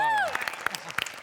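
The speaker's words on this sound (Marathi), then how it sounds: "त्याकरता एकदा टाळ्या" A studio audience at a Marathi comedy show breaks into scattered clapping that follows a rising, sung vocal sweep, starting sparse and uneven.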